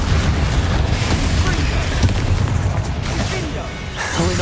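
A Confringo spell explosion in Hogwarts Legacy, a dense booming blast that fills the soundscape with heavy rumbling, crackling bursts and pops, with speech mixed into the loud combat din.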